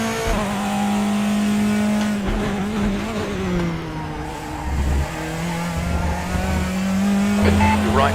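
A Praga R1 race car in the RaceRoom sim at Donington National, its engine droning loud and steady close up, rising and falling through gear changes under constant revving, with a brief tire squeal.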